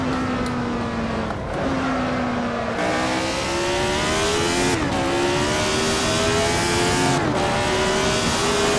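Lotus 72D Formula One car in a racing video game, its engine screaming loud and continuous as it climbs through the revs, with several quick upshifts cutting the pitch and rising again.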